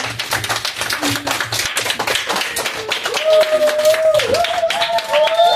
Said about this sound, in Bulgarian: Ръкопляскайте публиката!